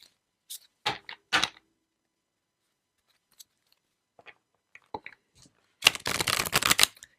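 Tarot cards riffled and shuffled by hand, a few short crisp bursts early on followed by a longer dense flurry near the end, close and alone against near silence.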